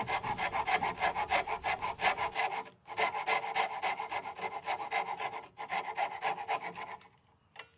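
A coping saw with a worn, slightly bent blade cuts waste from hand-cut wooden dovetails for an egg holder. Rapid, even back-and-forth rasping strokes run close and loud, pausing briefly twice and trailing off at the end.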